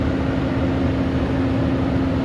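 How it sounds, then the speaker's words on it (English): Steady broadband roar from the engine fan of a Nissan Titan pickup whose fan clutch fails to disengage, held at about 2000 RPM; a constant, loud blowing whoosh with a low droning hum underneath, no talking. "the blowing noise you're hearing is a telltale sign"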